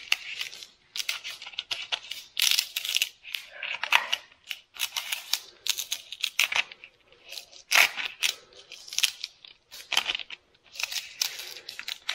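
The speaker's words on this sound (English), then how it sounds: "Now I'll peel off this plastic." Crinkly plastic backing peeled in repeated short tearing and rustling bursts from stick-on letters on a wooden sign being made as a gift, close and fairly loud, with brief pauses between pulls.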